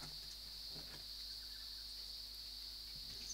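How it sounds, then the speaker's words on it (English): Cicadas drone outside an open door on a warm day, a steady high-pitched buzz holding unbroken throughout, faint and distant, with a few soft room knocks underneath. "You might be able to hear the cicadas, because I can hear them in my headphones"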